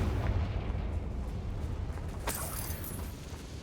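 A Confringo fire spell explodes in Hogwarts Legacy, a sharp burst cutting through a low rumbling game backdrop, followed by a brief fading tail of crackle.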